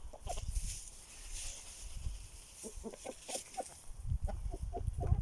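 Several Aseel chickens cluck and murmur nearby in short irregular calls, over a soft rustling background.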